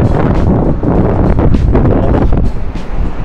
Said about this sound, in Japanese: 風強いんだ。